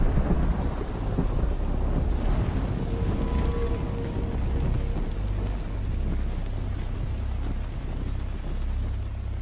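Steady rain pours down in The Last of Us 2, with a broad, continuous wash of droplets over a low, rumbling storm-like bed, plus a faint tonal hum near the middle; no one speaks.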